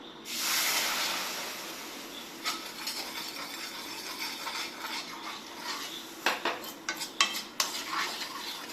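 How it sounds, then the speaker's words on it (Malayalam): Close scraping and clinking of a spoon stirring a thick mixture in a metal pot, with irregular sharper knocks toward the end. "ഇത് നല്ലോണം മിക്സാക്കി കൊടുക്കാം കേട്ടോ"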